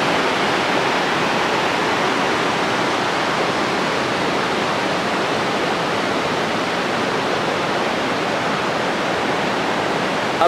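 A waterfall on the way to Amakund gives off a steady, even rush of falling water, loud and unbroken for the full length with no voices over it.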